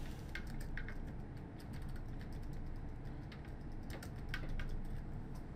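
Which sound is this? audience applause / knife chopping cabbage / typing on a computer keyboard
typing on a computer keyboard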